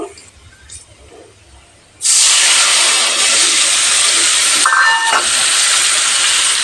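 A paste of ground cumin and coriander mixed with water hits hot oil in a pan, setting off a sudden loud, steady sizzling hiss after a quiet start, which holds close and bright for several seconds without talk.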